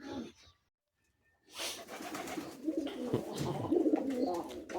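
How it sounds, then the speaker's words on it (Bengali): Sky-blue pigeons kept in pairs on a farm coo in a low, throaty burble after a short silence, the cooing growing fuller and closer, with soft rustling around them. "এখানে আমার আকাশি কবুতর জোড়া আছে"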